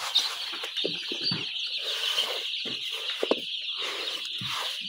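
Chickens stirred up inside a poultry house at night cluck and chirp close by in scattered bursts over a constant high-pitched background hiss.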